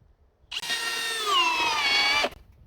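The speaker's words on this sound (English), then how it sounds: "that is the Milwaukee M18 Gen 4 Fuel with an 8-amp hour tabless forged battery in speed 2" A Milwaukee M18 Gen 4 Fuel drill with an 8-amp-hour tabless forged battery, set to speed 2, spins up and runs steadily at high pitch for under two seconds, then cuts off, close and loud with no talk.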